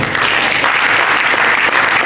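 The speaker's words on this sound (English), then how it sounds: "They will clap for him." Audience at an annual international conference applauding, a dense steady wash of many hands clapping at once, loud and sustained for the whole stretch.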